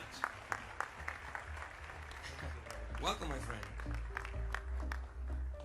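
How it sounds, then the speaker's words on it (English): Applause from an audience at a trading broker's stage event greeting guests who have just come on, a scattered then steady clapping under someone speaking into a microphone, with music swelling in behind. "Just another applause for them."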